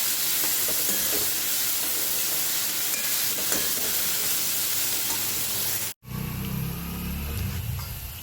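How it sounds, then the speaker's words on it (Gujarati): Kankoda (spiny gourd) vegetable cooking in a covered pan gives a steady close sizzle and steamy hiss, briefly cut off around the middle, then resumes with lower bubbling. "બસ હવે આને ઢાંકીને ચડવા દઈશું."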